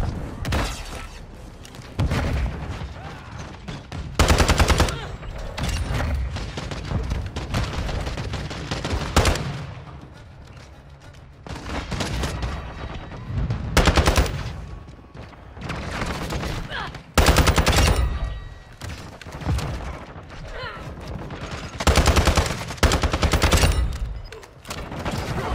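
Near-constant gunfire in Call of Duty: Modern Warfare 2 on the cramped Shipment map, rattling automatic bursts and heavy booms surging repeatedly over a dense battle din, with occasional speech in the mix.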